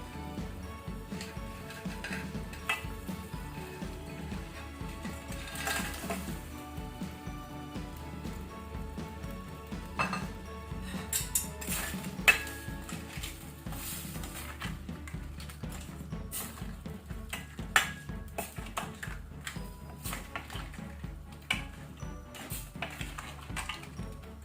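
Cleaned crab tipped into a pot of crab curry, with scattered metallic clinks and clatters of cookware over a soft continuous hiss, irregular and close.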